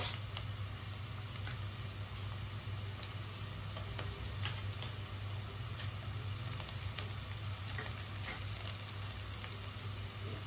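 Ginger garlic paste frying in a pan for tomato rice makes a close, steady sizzle that runs the whole time, scattered with small ticking pops.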